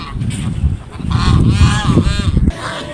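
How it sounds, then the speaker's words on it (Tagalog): Pet geese at a seaside resort honk loudly and close by in a quick cluster of harsh, nasal calls overlapping one another, with no talking. "Mga gansa."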